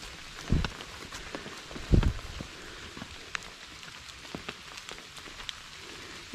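Steady rain patters on rocks and trail surfaces along a Virginia Appalachian Trail hike, a soft continuous wash with a couple of louder close thumps early on, no voices.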